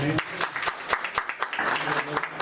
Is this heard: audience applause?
yes